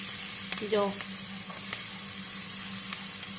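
Soft onions frying in a pan, a faint steady sizzle with a few light clicks and a brief tonal squeak near the start.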